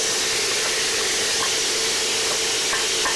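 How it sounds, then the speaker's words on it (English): Julienned carrot and translucent onion frying in olive oil, a steady loud sizzle and hiss with faint stirring scrapes, close and continuous. "now that my onion is translucent, I'm going to add in my julienne carrot"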